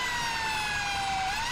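Ambulance siren in the GTA 5 LSPDFR police game mod, a loud steady wailing tone that slowly glides in pitch and plays continuously with no other sounds over it.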